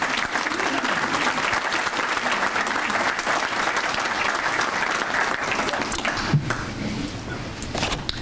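A crowd applauds during a mayor-president's State of the City address, with a dense, steady roar of clapping that eases slightly toward the end, with a few scattered cheers.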